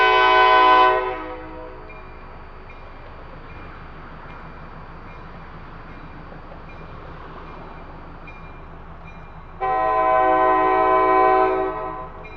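A switching locomotive, Allentown & Auburn 57, built in 1948 for the Washington Terminal Company, shoves a boxcar along the track and sounds two loud sustained horn blasts, one at the start and one near the end, over a low rumbling idle.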